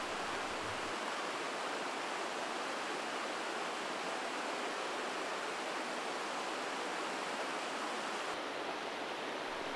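The Dessoubre river rushes over rocks in a constant broadband roar, steady and unbroken for the full length, with no voices.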